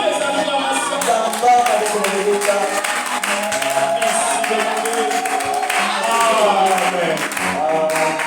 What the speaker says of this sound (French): Reçois les acclamations.